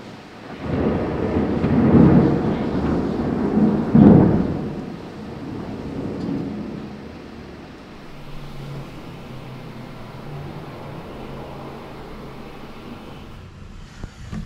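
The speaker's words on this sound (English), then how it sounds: "Yep, it actually started raining. It's like a big thunderstorm." A thunderstorm with rain rolls over a rail yard. Deep thunder rumbles loudly for the first few seconds, then fades into a steady hiss of rain and distant low noise.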